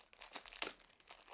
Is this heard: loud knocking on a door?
no